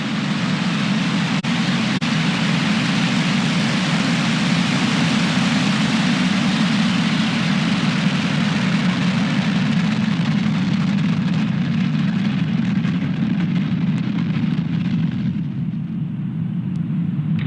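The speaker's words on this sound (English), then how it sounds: "3, 2, 1, ignition and liftoff. Go Falcon, go Starlink." A SpaceX Falcon rocket igniting and lifting off on a Starlink launch: a steady, loud, deep roar that holds constant for over fifteen seconds before the high end begins to thin out.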